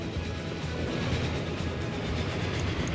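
A train runs in the rail-building game Transport Fever, a steady low rumble with faint clatter of wheels, continuous and moderately loud, with no speech.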